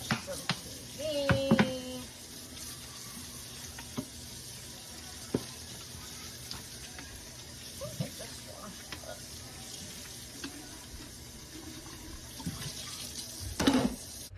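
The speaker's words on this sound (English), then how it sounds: "she did 15 minutes worth of washing up and it wasn't even like sped up." A kitchen tap runs at a sink during washing up, giving a steady faint wash of water with scattered clinks and knocks of dishes, and brief voices now and then.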